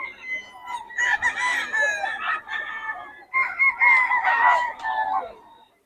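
A big quality fighting rooster crowing: two long, loud crows close by, one after another with a short break between them, with faint voices in the background.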